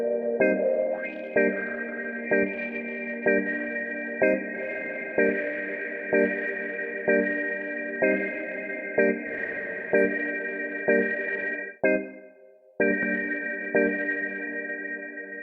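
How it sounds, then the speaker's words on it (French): A synth tone in Ableton is run through infinite reverb and heavy distortion, giving bright buzzing stacked pitches that repeat in pulses with a long sustained wash, briefly cut near the end before returning, with no voices. "ça croustille bien parce qu'il y a une bonne disto dessus"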